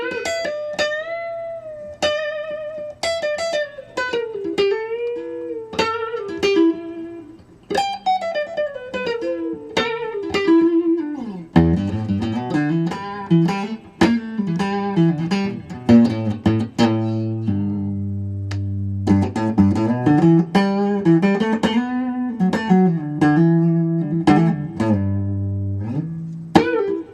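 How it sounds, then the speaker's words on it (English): Ibanez Roadstar II electric guitar played with a volume boost in blues licks, first on a single coil pickup then switched to a P90, with bending lead lines, chordal stabs and a punchier, fuller tone later, loud and clear. "So I'll do a little bit on the single coil, and then I'll jump to the P90 in the middle of that"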